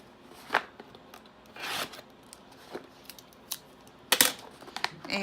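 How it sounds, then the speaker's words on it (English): Scissors snip open a beauty box's packaging in a handful of separate close cuts and crisp rustles, spaced irregularly with quiet gaps between and no talking. "let's get my scissors"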